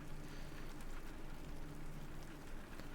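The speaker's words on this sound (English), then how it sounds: "he returned his attention to the sound of the rain" Steady rain falling in the video game Mahoyo, a dense, even wash of drops hitting surfaces that stays constant throughout.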